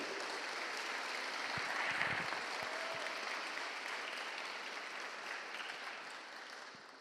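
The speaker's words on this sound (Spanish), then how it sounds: "Dale un aplauso a Él entonces" Steady congregational applause fills a church service, a dense wash of many hands clapping at moderate distance, holding evenly for several seconds before easing slightly at the end.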